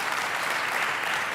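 A studio audience at a comedy stage show claps, a brief, dense burst of applause from many hands, loud and steady, with no voices over it.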